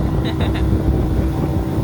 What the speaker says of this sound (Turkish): Evet sürat teknesiyle yolculuk.